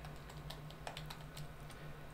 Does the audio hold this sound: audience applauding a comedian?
no